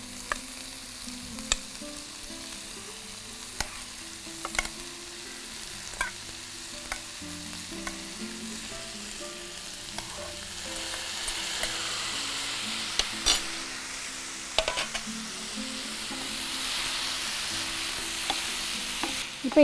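Boiled ivy gourd tossed into a hot pan and sautéed, with steady sizzling under repeated sharp spatula scrapes and knocks against the pan, close and continuous throughout.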